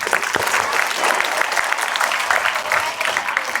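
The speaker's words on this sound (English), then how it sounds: "Give big applause." Students at a cybersecurity awareness session in Vijayawada applaud in a steady, even round of clapping that lasts throughout, close and loud, with no talking over it.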